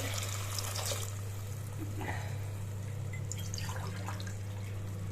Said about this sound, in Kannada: ನೀರು ಹಾಕ್ತಾ ಇದ್ದೀವಿ